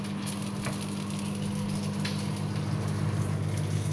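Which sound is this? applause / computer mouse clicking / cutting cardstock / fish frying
fish frying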